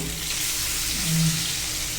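Fish frying in a pan gives a steady close hiss of sizzling oil, broad and even for two seconds with a slight swell midway and no talk.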